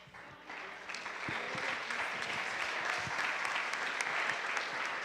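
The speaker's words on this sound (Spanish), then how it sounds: "Más fuerte ese aplauso en esta mañana" A church congregation applauds during a service, the clapping swelling after a brief quiet start and then holding steady at a moderate level, fairly distant and reverberant.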